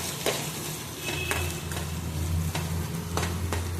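Chopped onion frying in hot oil with mustard seeds and cumin, a soft steady sizzle with a few scrapes and stirring taps of a utensil against the pan.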